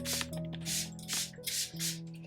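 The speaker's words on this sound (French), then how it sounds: "on va terminer par un petit spray de Keratin Hair Radiance" Keratin Hair Radiance hair spray released as a fine mist in about five short, soft puffs in quick succession, close and quiet.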